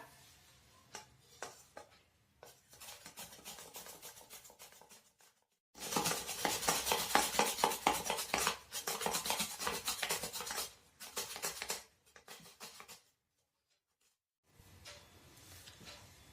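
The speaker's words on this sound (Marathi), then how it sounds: "आता आपण हे कांदे चिप्सच्या मशीनने बारीक करूया" Onions are sliced on a chips slicer for kanda bhaji, heard as rapid, rhythmic rasping strokes in several long bursts separated by pauses, close and fairly loud with no talking.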